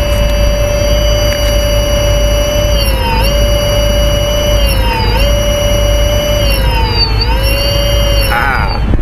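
Yadea GT20 electric motorcycle running, a sustained high electric motor whine with tonal harmonics that dip and rise in pitch several times over steady broadband noise.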